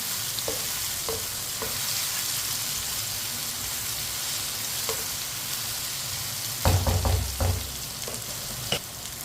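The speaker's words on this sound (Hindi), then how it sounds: "तोरी को 2-3 मिनट के लिए मैंने फ्राई कर लिया है।" Ridge gourd fries in a pan, a steady soft sizzle running throughout with a few brief clatters of stirring near the end.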